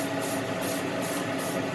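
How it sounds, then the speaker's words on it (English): Aerosol spray can applying clear coat over a finished model, a steady close hiss with rhythmic pulses as the can sweeps back and forth, no voices. "So whenever you start spraying it on like that, you want to make sure that you get it good and covered."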